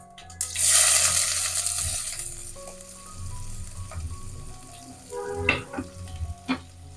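A large onion dropped into hot oil with whole spices gives a loud burst of sizzling that settles into a softer steady fry, followed by scattered clinks and clatters of utensils.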